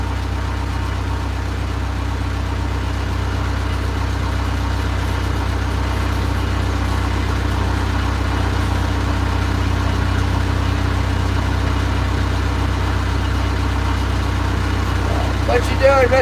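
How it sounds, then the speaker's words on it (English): The engine of a commercial inshore salmon fishing boat drones loud and constant at close range, a deep steady hum with a few brief higher chirps near the end. "just a loud boat"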